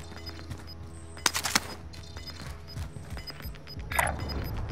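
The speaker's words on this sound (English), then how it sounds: "Someone shooting from that thing." Bursts of gunfire in a shooter video game set in a hospital, a quick cluster of shots near the middle, then fainter scattered shots and game noise, with no talking.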